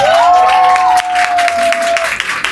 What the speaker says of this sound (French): Applaudissez s'il vous plaît pour Ariana.